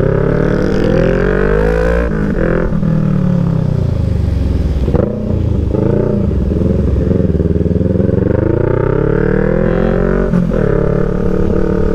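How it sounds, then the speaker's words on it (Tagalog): A loud motorcycle engine roars up close during a group motorcycle unity ride in Quirino province, revving and surging in pitch throughout with brief rattles and clatter. "Grabe, lakas ang motor ni Kuya"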